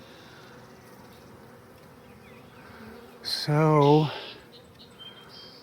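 A swarm of honeybees buzzes as a steady low drone throughout, with a loud nearby rasping burst midway and a person speaking briefly.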